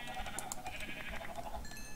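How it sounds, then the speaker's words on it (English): Wild sheep bleat in Minecraft, a few short wavering calls close by over a soft ambient background. "More wild sheep."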